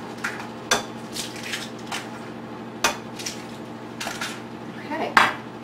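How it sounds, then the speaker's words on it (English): Five extra large eggs cracked one after another against a bowl rim, sharp isolated taps spaced a second or more apart over a low room hum, with small clinks between. "now we're going to crack our eggs"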